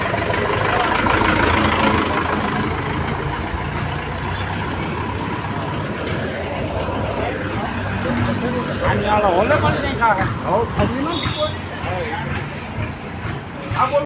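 A new Mahindra Oja tractor engine idles steadily at a dealership as it is readied for delivery, with a low, continuous rumble running beneath people talking nearby.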